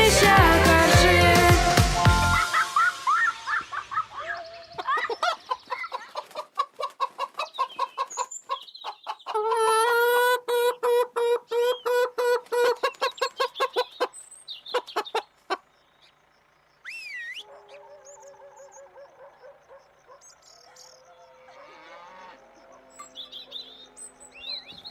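Cartoon hens cluck in quick repeated bursts and a rooster calls, with chirping birds layered in; a loud noisy burst opens the clip, then a brief silence later.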